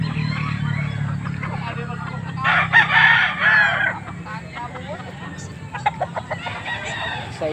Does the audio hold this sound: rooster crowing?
yes